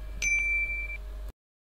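A single bright notification bell ding rings out clearly, its clean tone lingering for about a second before cutting to silence.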